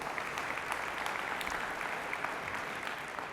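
An audience applauds at a real-estate agent rally, steady dense clapping from many hands that holds evenly through the whole stretch, loud and filling the room with no voices over it.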